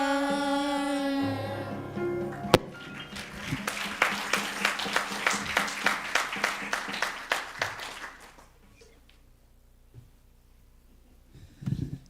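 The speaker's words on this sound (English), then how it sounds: "Can we just give another round of applause for the Belhaven?" A school board meeting audience applauds a unified chorus, with rhythmic clapping that builds loud and steady for several seconds, then fades to near quiet before a few scattered claps near the end.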